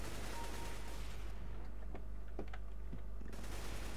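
Gunfire in Counter-Strike: Global Offensive deathmatch, a few sharp distant shots popping over a steady low hum and faint clicking, with no talk.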